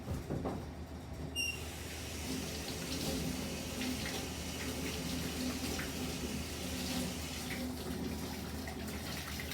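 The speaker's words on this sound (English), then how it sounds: "So I'll rinse those and bring them back." Tap water runs steadily into a kitchen sink as celery stalks are rinsed, a continuous close splashing hiss with faint handling knocks.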